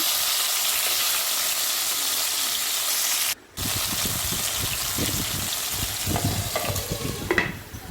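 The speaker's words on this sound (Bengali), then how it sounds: "আলুগুলোকে ভালোভাবে ভেজে নিচ্ছি" Potato pieces coated in salt and turmeric fry in hot oil with a loud, continuous crackling sizzle. The sizzle breaks off briefly, then returns with stirring scrapes and splatter toward the end.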